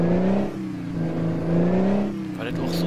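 A truck engine in Euro Truck Simulator 2, fitted with a new engine for a better sound, hums and revs in steady waves with tonal drone, while someone talks over it.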